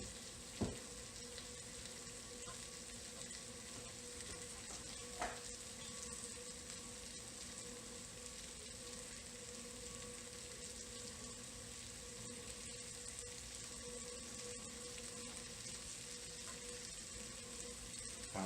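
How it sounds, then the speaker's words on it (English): A pan of chicken sizzles and fries steadily after being deglazed with wine, a continuous close hiss with a couple of faint clinks from utensils. "Let me deglaze that pan with a little bit of oil,"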